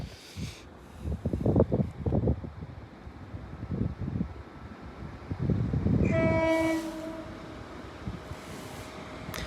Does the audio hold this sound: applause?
no